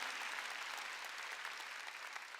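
A church congregation claps in steady, dense applause giving glory to God, an even roar of many hands at moderate volume.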